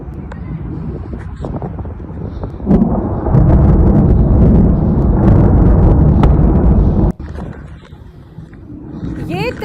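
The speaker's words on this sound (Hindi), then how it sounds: "ये ईरान की राजधानी है। धमाके सुनिए।" Loud, deep rumbling explosions roll through Tehran at night, a sustained roaring blast with sharp cracks and a sudden cut, heard from a distance.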